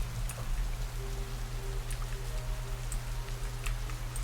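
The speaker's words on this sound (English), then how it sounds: "As he noticed, the rain came" Steady rain falling with scattered drops tapping a surface, a continuous even patter throughout with a low constant hum beneath.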